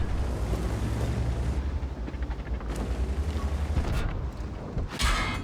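Tank cannon fire in an online tank battle game, with a T-44 landing a hit: a continuous low rumble of engines and battle noise builds to a sharp, loud blast near the end, with no talking.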